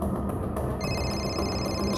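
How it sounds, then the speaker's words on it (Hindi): A telephone rings during a police crime drama scene, its steady electronic tone carrying over a busy background and continuing without break. "सर, नेहा का फोन"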